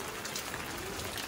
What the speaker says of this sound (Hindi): बारिश अभी भी कंटिन्यू लगी हुई है